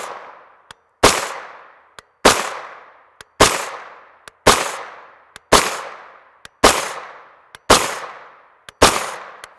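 Nine sharp, loud single gunshots from a 16-inch Palmetto State Armory AR-V9 carbine in 9mm, fired at a steady pace about a second apart, each with a short decaying echo, no talking.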